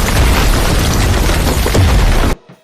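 A big explosion destroys a building in the film Battlefield: Fall, a loud, dense roar that fills more than two seconds before cutting off sharply into quiet.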